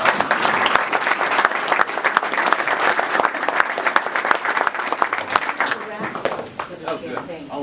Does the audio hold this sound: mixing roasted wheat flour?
no